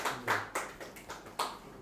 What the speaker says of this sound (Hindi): तालियों के साथ इनका स्वागत है एक बार